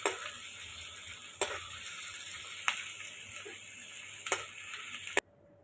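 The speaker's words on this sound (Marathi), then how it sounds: "कांद्याचा जो स्मेल असतो ना तो गेला पाहिजे, बस एवढाच आपल्याला तो फ्राय करायचा आहे." Chopped onion sizzles steadily in a hot pan while being stirred continuously, with a few louder scrapes and clinks of the spoon against the pan before the sizzle cuts off abruptly near the end.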